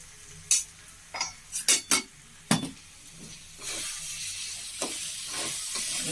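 A spoon clatters against a pan in a quick run of sharp scrapes and knocks while chutney is stirred into chana dal and onions, then a soft sizzle swells and holds steady, close and without talk.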